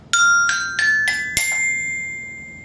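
Colored xylophone plates are struck with a mallet four times in quick succession, then a fifth, brighter strike rings out longer. The bright, bell-like tones are fairly near and play alone with no talk.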